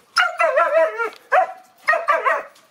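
A female griffon hunting dog barks close by in three loud bursts, a long whining yelp first, then a short bark and a double bark after brief gaps.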